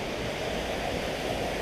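Water near the Appalachian Trail at Sages Ravine gives a steady, soft rushing wash with no other sounds.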